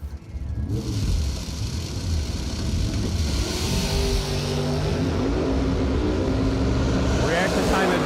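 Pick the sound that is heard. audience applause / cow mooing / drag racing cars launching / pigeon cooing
drag racing cars launching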